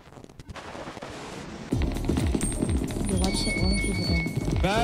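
Weapon fire in an SCP video game, a dense burst of rapid shots that starts abruptly midway and keeps going at close range, loud and busy, with other game sounds layered in.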